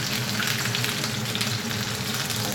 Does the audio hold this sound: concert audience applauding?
no